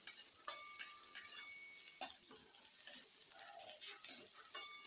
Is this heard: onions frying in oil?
yes